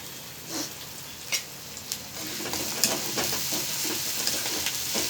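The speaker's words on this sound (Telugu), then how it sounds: "దానికి సరిపడా ఒక 4 ఎగ్స్ తీసుకోవాలి. మంచిగా ఫ్రై అవుతున్నాయండి." Four eggs fry in a pan for egg fried rice, a continuous bright sizzle with occasional sharp pops and scraping clicks from stirring.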